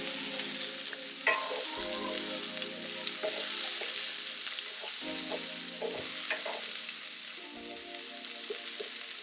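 Beef and vegetables cooking in a pan over a turned-down flame, giving a continuous sizzle broken by the clatter and scrape of stirring. Close and moderate in level, with no voices.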